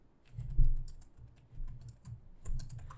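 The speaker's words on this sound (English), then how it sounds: "here you can basically just type in text in real time" Keys clatter on a computer keyboard in quick, uneven bursts, typing text in real time, close and moderately loud with brief pauses between runs of keystrokes.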